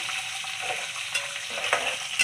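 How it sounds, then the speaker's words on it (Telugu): Pulihara tempering frying in a pan and stirred steadily with a spoon: a continuous oil sizzle with soft scraping strokes and a few sharper clinks, close and alone with no voices. "ఇదైతే బాగా కలపాలి"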